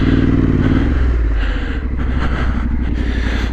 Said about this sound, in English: Feel that bike going sideways there.